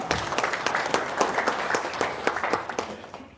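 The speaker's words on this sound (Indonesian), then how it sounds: "Wow, tepuk tangan dulu dong." Audience clapping at an Islamic Quran-reading gathering, a few pairs of hands beating out sharp, fairly sparse claps for about three seconds before trailing off.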